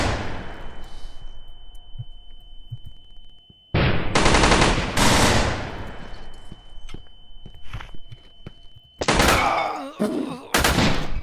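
Bursts of automatic gunfire in a team deathmatch video game shooter, with loud dense volleys broken by quieter gaps with scattered shots and footsteps, some fire close and some distant.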